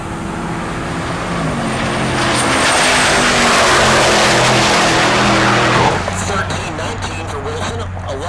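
A drag race at Heartland Park Topeka between a Holden-badged Chevy SS and a Silverado pickup: loud engine roar swelling to a peak, then dropping away abruptly while a steady drone continues.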